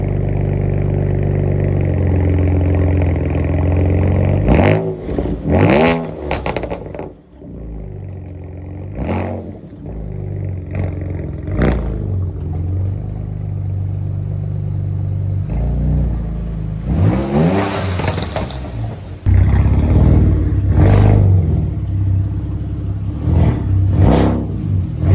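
BMW 335i E90 with the N54 engine running while being moved in and around a garage, idling rumble punctuated by several sharp revs and blips, loud and close.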